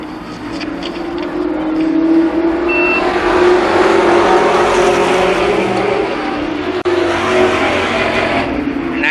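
Limited sportsman race cars circle the oval at Columbus Motor Speedway in 1993, a loud, steady droning roar of several engines pacing down the backstretch with no break for the full nine seconds.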